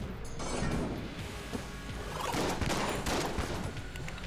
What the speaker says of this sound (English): Oh crap, bouncy bullets.